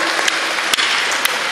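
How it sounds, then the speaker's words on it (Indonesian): An indoor audience applauds at the SATU Indonesia Awards in Palu, a dense, steady clapping with a few sharper claps standing out. "Tepuk tangan dong anak muda Indonesia."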